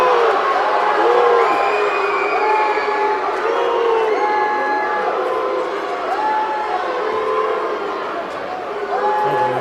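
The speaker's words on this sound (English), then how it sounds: "And the crowd reacting to that call." Basketball arena crowd at an NBL playoff semifinal roaring in reaction to an offensive foul call, a loud sustained wash of cheering and shouting with whistles and horn-like tones layered throughout.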